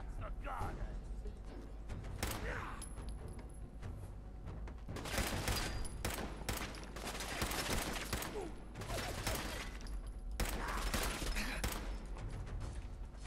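Repeated bursts of gunfire from the video game Fallout 4, loud volleys clustered in several rapid fusillades with thuds and mechanical clatter between, under a speaking voice.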